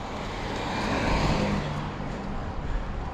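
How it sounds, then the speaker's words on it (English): A car passes a cyclist climbing a hill on a road, a broad, steady rush of tire and engine noise that swells near the middle and then eases slightly. "Car."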